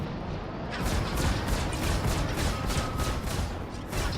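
Rapid bursts of spaceship cannon fire in a Star Citizen Arena Commander dogfight from a Mongrel ship, a loud stuttering volley of heavy booming shots repeating roughly every third of a second throughout.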